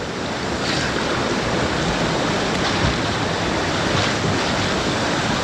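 Strong river water rushing and churning near a riverbank at Melakasakudy near Karaikal, a steady broadband roar filling the scene with no voices.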